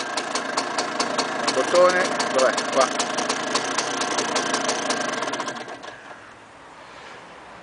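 A new motor on a vintage Jaguar Duo 314 runs with a steady, buzzing mechanical whirr and fine rhythmic ticking before cutting off near the end, with brief talk over it.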